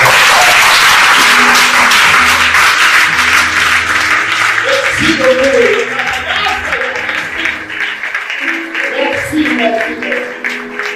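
Audience applause at a conference session in Benin, a dense wash of clapping lasting throughout, loud and close, with music and a speaking voice weaving over it.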